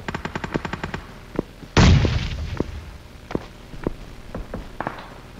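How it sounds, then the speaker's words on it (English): Gunfire in PUBG Mobile cracks out: a quick rapid burst, one loud close boom, then scattered single shots spaced irregularly, some sounding farther off. "we got people shooting from long way away"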